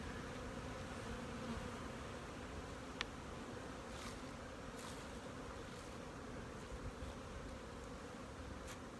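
Honey bees buzz around hives in autumn, a dense, steady, faint hum of many insects with no talking.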